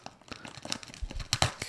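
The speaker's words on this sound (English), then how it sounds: "this envelope is taped. Let's cut this open." A knife slits open a taped envelope during a knife unboxing. Quick close tearing and crinkling bursts of tape and paper come in a short, uneven series that is loudest at the end.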